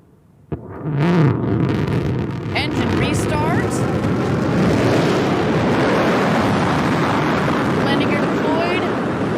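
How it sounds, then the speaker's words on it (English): A Blue Origin New Shepard booster roars in with its BE-3 engine restarted for landing, a sudden loud onset becoming a sustained broadband rumble with wind buffeting, while a voice talks over it. "we're going to get the BE-3 engine to restart."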